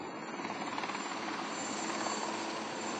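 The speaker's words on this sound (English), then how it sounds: "By early June, 10 WFP helicopters were flown into the country to assist in the humanitarian effort." World Food Programme relief helicopter in flight during the Cyclone Nargis aid effort in Myanmar, a steady whirring rotor and engine drone with faint blade chop, moderately quiet and constant throughout.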